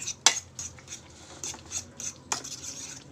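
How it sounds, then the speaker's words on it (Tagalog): A utensil whisks torta egg mixture in a bowl, giving rapid light clinks and taps against the sides at a steady rhythm, with one sharper knock near the start and another later on, close and without talking. "tapos halu-haluin lang po natin siya"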